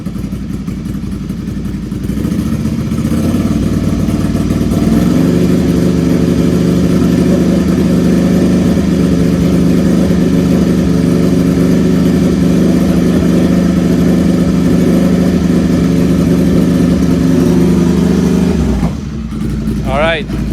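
A motorcycle exhaust with its dB killer removed is held at a steady 3,000 RPM, a loud, constant droning roar lasting about eighteen seconds before dropping off, with talk briefly heard.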